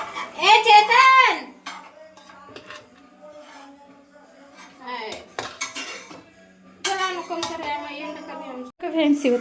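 Dishes and cutlery clink while hot green masala chicken biryani is served, with short bright scraping and tapping bursts spread across the clip and a voice talking intermittently over them.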